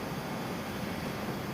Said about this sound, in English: That's the sound of coal burning.